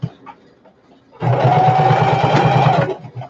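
An electric sewing machine stitches a fabric shoulder bag, whirring steadily and rapidly for about a second and a half at close range, with quiet room sounds before and after the run.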